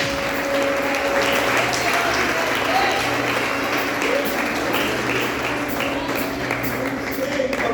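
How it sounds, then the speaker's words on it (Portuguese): A church congregation claps steadily and loudly during a Wednesday prophetic worship service, a dense, continuous wash of applause filling the hall with no pause throughout. "Levanta a mão e aplaude a Ele, porque Ele está aqui. Pode aplaudir bastante."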